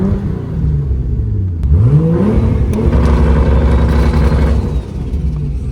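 A car engine revs hard and loud at a gathering of tire-burning enthusiasts, pitch sweeping up and down in several surges, with a steady roar held through the middle before easing back.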